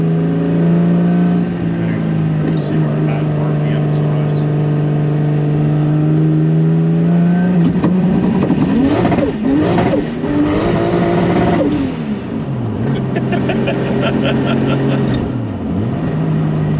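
Turbocharged 1.5JZ-swapped SC300 with a GTX3584RS turbo on a dyno, engine droning loud and steady before climbing through hard, sweeping revs and dropping back repeatedly, with people talking underneath.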